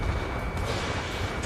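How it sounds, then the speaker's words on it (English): Anti-air gun fire in the Ace Combat 7 flight combat game, a dense continuous roar of rapid booming rounds, loud and sustained for a brief burst. "Fire anti-air gun! Now!"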